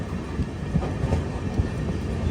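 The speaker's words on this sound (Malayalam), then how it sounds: "ട്രെയിൻ ഇപ്പോൾ റോഹ റെയിൽവേ സ്റ്റേഷനിലേക്ക് എത്തിക്കൊണ്ടിരിക്കുകയാണ്" A long-distance express train rolls into Roha railway station on the Central Railway, a steady broadband rumble with rhythmic clickety-clack of wheels over rail joints, close and continuous with no voices.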